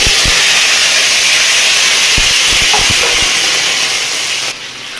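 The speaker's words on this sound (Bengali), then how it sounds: "এরপর ওই তেলের মধ্যে এই আলুগুলো ভেজে নেব।" Potatoes frying in hot oil in a pan while cooking lentil fritter curry, a steady loud broadband sizzle and hiss with a few soft clinks, running throughout and easing slightly at the end.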